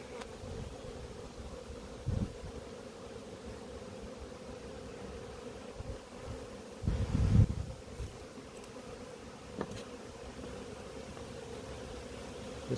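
Honeybees at an apiary hive being worked with a smoker: a continuous low hum of many bees buzzing close by, with a few louder passes and bumps rising over the drone.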